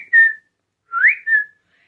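A person whistles a short tonal note, then a rising two-part whistle after a pause, imitating a whistle sound, clear and close with silence between.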